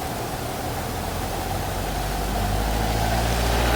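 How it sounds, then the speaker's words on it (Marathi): Jeeps and Max utility vehicles pass along a Satpura hill road in pouring monsoon rain, a low engine rumble swelling under the steady roar of the downpour. "पूर्ण जीप गाड्या वगैरे सर्व मॅक्स वगैरे येत आहे"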